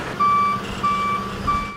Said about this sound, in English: big trucks hauling in building materials